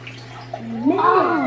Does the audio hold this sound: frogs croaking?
no